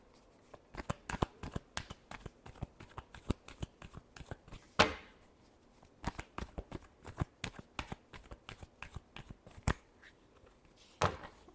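Tarot cards are shuffled by hand in quick, crisp riffles and slaps, a close, irregular run of sharp flicks with short pauses between bursts and no talk.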